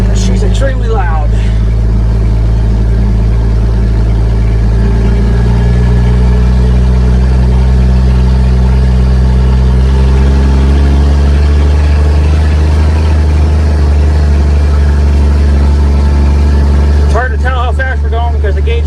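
International Harvester L-130 truck engine idling with no exhaust system fitted, a loud, steady low rumble throughout, with a person talking over it.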